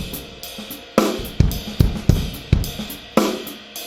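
A drum groove played on the ride cymbal with the left foot closing the hi-hat between beats, giving a steady tick-tock pattern of cymbal pings and sharp kick and snare hits, close and clear.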